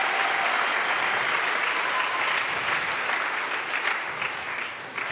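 A church congregation applauds, with dense, steady clapping that fills the space, loud and sustained for several seconds before easing slightly.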